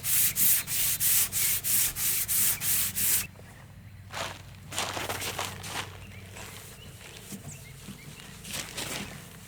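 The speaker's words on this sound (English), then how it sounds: "Very light sanding." Light sanding across a solid wood five-drawer dresser between coats, a burst of quick, even rasping strokes, then quieter, scattered scrapes and rubs.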